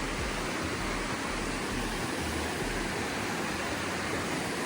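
A small mountain river flowing down from Hymba rushes steadily nearby, a dense, even wash of water noise with no pauses and no voices.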